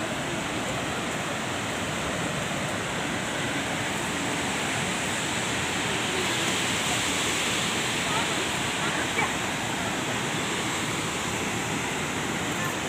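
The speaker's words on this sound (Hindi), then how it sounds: "पानी के शोर में कुछ भी सुनाई नहीं दे रहा है एकदम।" Aharbal waterfall in Kashmir, a steady, loud roar of rushing water that fills the whole scene without letup, with a hint of wind.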